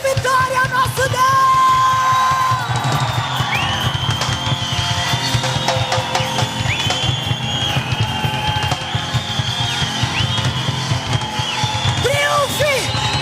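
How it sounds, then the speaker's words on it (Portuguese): Church congregation shouting a loud cry of victory, many voices yelling and whooping together over sustained instruments, the noise steady and crowded throughout. "Um grito de vitória ao nosso Deus."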